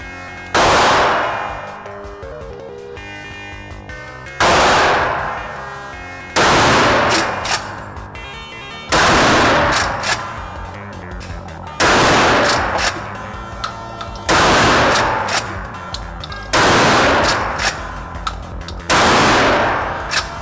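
An H&R Pardner Pump shotgun fires Wolf brand slugs at a silhouette target 25 yards away. Seven loud, sharp blasts come at a steady pace roughly every two to three seconds, each followed by a ringing decay.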